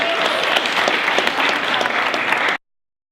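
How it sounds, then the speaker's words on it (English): Applause for the candidates at a college council winter election event fills the room, a dense steady wash of many hands clapping at full strength before cutting off abruptly near the end. "one more big round of applause for the candidates"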